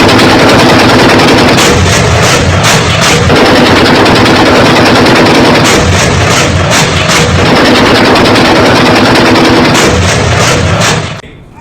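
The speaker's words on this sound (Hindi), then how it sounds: "पाकिस्तान के टैंक्स आग उगल रहे थे।" War footage of Pakistani tanks and guns firing, heard as loud, dense bursts of rapid automatic gunfire with heavy booms underneath, sustained and close before cutting off at the end.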